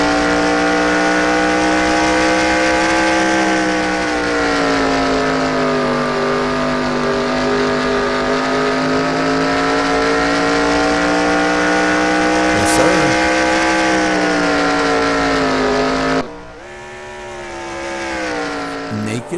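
Racing trucks roar around the Memphis track during practice, a loud sustained engine drone that holds steady for many seconds before abruptly dropping away, with a quieter engine swelling back in at the end.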